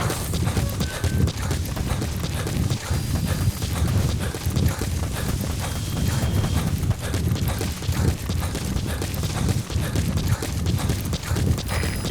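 Hooves clip-clop rapidly in a steady galloping rhythm from a horse in the video game Metal Gear Solid V, with wind and outdoor rumble underneath throughout.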